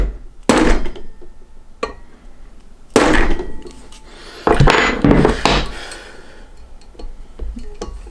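Sharp, loud strikes punching a pin into a drop-in trigger, a few separate impacts spaced apart with short clattering between them.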